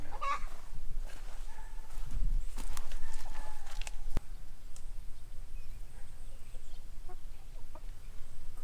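Chickens cluck softly in the background near a chicken run amid outdoor rustling and a few sharp knocks, fairly quiet and with no one speaking.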